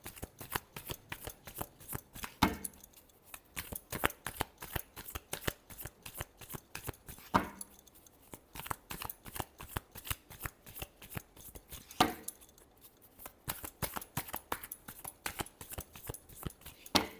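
Tarot cards shuffled by hand in a close, quiet room, a steady run of crisp riffling flicks repeated for the whole stretch, broken by brief pauses every few seconds.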